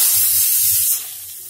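Grated carrots hit a hot pan for gajar ka halwa with a loud, close sizzling hiss that fades after about a second to a quieter steady frying.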